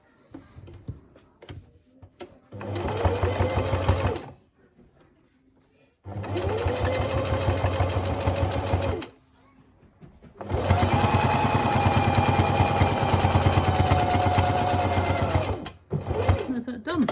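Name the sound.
sewing machine stitching fabric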